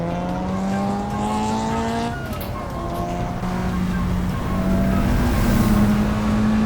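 Honda Civic Type R FK8 in the Assetto Corsa racing game, engine note rising and shifting through gears as it cruises an expressway, a steady near drone with pitch steps and some road noise.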